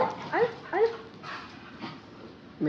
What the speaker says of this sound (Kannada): ಮೆಂಟಲ್ ನಾಯಿ ನಮ್ಮ ಲೆಕ್ಕ